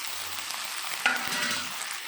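Okra pieces dropped into a hot pan with curry leaves and ginger-garlic paste, a steady crackling sizzle with a sharp clatter as they land, followed by stirring.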